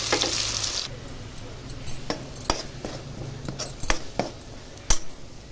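Masala paste frying in oil with brinjal and two green chillies for a stuffed eggplant curry, a steady sizzle broken by several sharp clinks and scrapes of a utensil against the pan.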